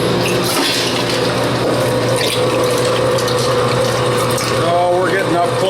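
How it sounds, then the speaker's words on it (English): A meat grinder grinding beef for a second pass, loud and continuous mechanical churning and whirring from close by, with a voice faintly present under it. "what we're going to do is we're going to grind this twice"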